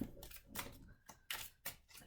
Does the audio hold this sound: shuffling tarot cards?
yes